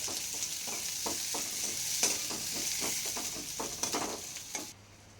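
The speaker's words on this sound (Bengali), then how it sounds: "দিয়ে দিলাম পেঁয়াজ কুচনো আর দিয়ে দিলাম রসুন আমি ছ সাতটা কোয়া দিয়ে এবার সুন্দর করে ভেজে নেবো বাদামি রং করে" Chopped onion and about six or seven garlic cloves fry toward brown in oil, a fairly quiet continuous sizzle broken by soft stirring scrapes that stops abruptly near the end.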